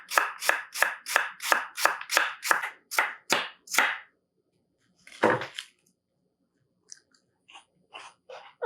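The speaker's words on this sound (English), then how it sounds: "first we got to peel these apples" Apples are peeled for an apple charlotte with about ten crisp, evenly spaced scraping strokes, then a pause, one more scrape and a few faint clicks.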